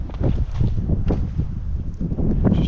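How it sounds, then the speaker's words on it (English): Wind gusting through a burned forest while morel hunting, buffeting the microphone in loud, irregular low rumbles. "Starting to get windy now."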